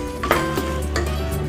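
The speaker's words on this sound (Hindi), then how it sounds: "ऑनियन को मैंने अच्छे से मिक्स कर लिया है" Onions being stirred in a hot pan while making Chinese pulao, with a soft steady sizzle under scraping utensil strokes and a few louder clinks against the pan, close and continuous.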